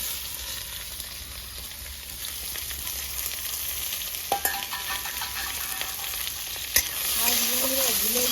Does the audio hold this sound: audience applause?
no